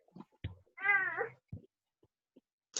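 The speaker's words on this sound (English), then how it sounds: "Now maybe you'll hear my cat as well." A house cat meows once in a drawn-out, wavering call, close and clear, with a few soft knocks and short noises before and after it in an otherwise quiet room.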